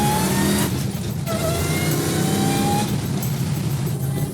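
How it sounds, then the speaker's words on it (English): A supercharged Challenger's engine revs hard as it accelerates through the gears, a loud, steady mechanical roar with a rising whine as the supercharger boost comes in. "there's the supercharger kicking in."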